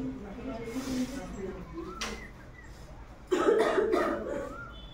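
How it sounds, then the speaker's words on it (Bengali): Someone coughs a few times in close, harsh bursts, mixed with talking voices in a busy room. "কাশি হচ্ছে, খুব কাশি হচ্ছে।"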